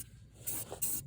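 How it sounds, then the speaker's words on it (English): Short bursts of hissing from an aerosol spray paint can coating a Fox body Mustang's brake caliper, two quick close sprays with no talking. "I'm going to spray the caliper first."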